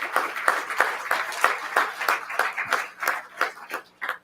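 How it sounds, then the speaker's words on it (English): Audience applause at a school district board meeting honoring a girls high school wrestling team, a steady patter of fairly close claps running throughout with no talk over it. "How about a round of applause for Davis High School Girls?"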